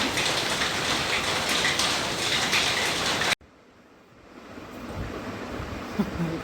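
Heavy rain pours in a dense, loud hiss for a few seconds, then cuts off abruptly and gives way to a fainter, softer patter of drops that slowly builds again.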